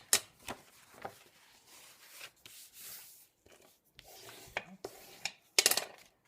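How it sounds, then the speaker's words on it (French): Soft scraping and light tapping of a paper folder against a glass surface, irregular and close, with a few sharper clicks toward the end. "désolé pour le bruit, hein, sur la plaque en verre"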